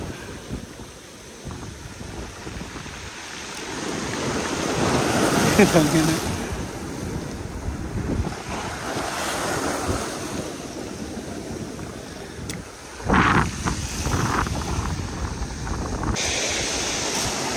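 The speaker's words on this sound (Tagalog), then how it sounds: "malakas ang alon." Strong sea waves churn and crash under steady gusting wind at sea, a continuous roaring wash with louder surges and buffeting wind noise on the microphone throughout.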